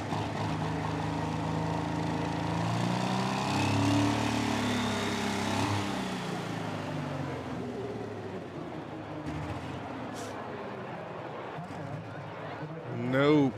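The Runaway Deer pulling tractor, run by brothers from the Netherlands and troubled by engine problems, gives a throaty engine drone that swells and then fades down, with a voice talking over it throughout and a brief loud burst near the end.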